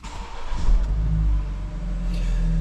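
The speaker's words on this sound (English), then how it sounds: "So we'll get the car started," A BMW X3 20i xDrive M Sport starts up with a cranking catch and a rising rev, then settles into a steady, close, low idle rumble.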